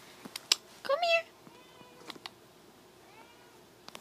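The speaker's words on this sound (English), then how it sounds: "Oh, here comes my cat." A house cat gives a short meow, then a few softer, drawn-out mews follow against quiet indoor background and scattered small knocks.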